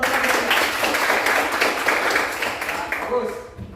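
A class of junior high school students claps together in a dense burst of applause mixed with voices, which thins out toward the end.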